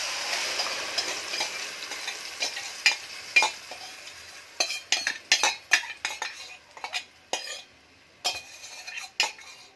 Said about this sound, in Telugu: ఆయిల్ వేసుకొని ఇప్పుడు మసాలా అన్నీ కలిపి పెట్టుకున్నాం కదా, ఇది వేసేద్దాం